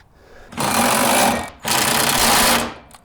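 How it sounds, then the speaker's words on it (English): A Ryobi impact driver tightens a shock absorber bolt on a Jeep Cherokee XJ, firing two loud, close bursts of rapid hammering rattle, each about a second long, separated by a brief pause. "I wouldn't have thought this Ryobi Impact was capable of it, but I guess it is."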